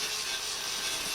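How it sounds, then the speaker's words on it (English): Sanding old epoxy primer on a Talbot Express camper van battery tray area with 400 grit sandpaper by hand, a continuous close, even, hissing scrub of paper on the painted metal. "I'm using 400 grit sandpaper there to rough up the epoxy primer from before."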